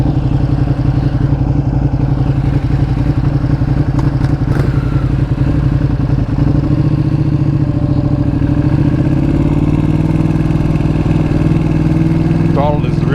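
A 2020 Ducati Panigale V2 engine on a road ride, a loud, steady, throbbing twin-cylinder drone that runs throughout with wind noise, while a rider talks over it.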